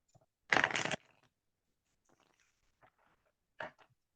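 A deck of cards being shuffled once during a card reading, a dense riffling burst followed by a few soft handling rustles and a short final snap, close and quiet with no talk.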